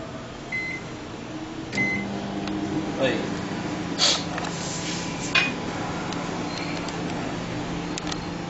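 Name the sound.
microwave oven running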